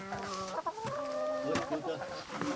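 Chickens cluck and chatter nearby in a steady stream of short calls, with faint background noise.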